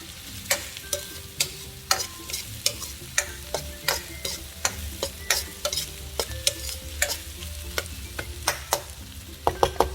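Laing is stirred in a pan, with steady scraping strokes and sharp utensil clicks against the pan repeating throughout over a soft sizzle, close and fairly loud, with no voices.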